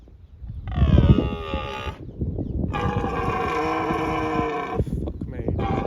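A cow lets out a loud, drawn-out moo twice in an outdoor nature setting, the second call longer than the first, over rustling and wind noise.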